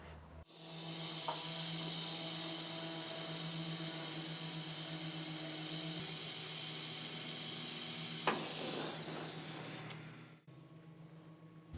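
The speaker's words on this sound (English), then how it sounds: "I'm going to take a torch and heat it right down in here and kind of take that tension out of it." A torch roars steadily and close while heating a steel rod on a western coach to relieve its tension, a loud continuous hiss starting abruptly and cutting off near the end.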